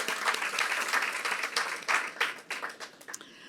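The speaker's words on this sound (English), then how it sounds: "Let's give that a round of applause" Applause at a school district Hall of Fame induction announcement marking its 20th anniversary, moderate clapping that swells then thins into scattered last claps near the end.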